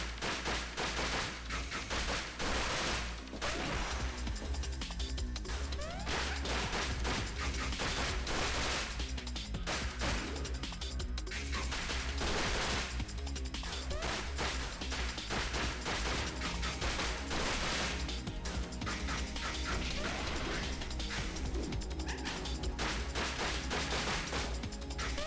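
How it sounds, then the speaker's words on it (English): Nonstop gunfire and explosions from a fast Sonic-style platformer, rapid bursts and booms packed densely over driving game music, loud and continuous throughout. "Another big explosion, we love them."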